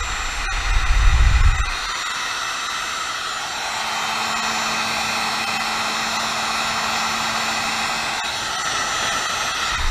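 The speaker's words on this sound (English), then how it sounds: "with my handy dandy heat gun, again I'm going to heat shrink this guy" Heat gun shrinking heat shrink tubing over an automotive wire repair, a steady loud blowing hiss running continuously throughout, close by with no talk.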